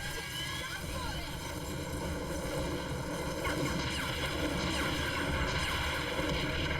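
An enemy chopper in the video game Viewtiful Joe whirs with a steady rotor and engine drone, continuous and fairly even, mixed with game sounds.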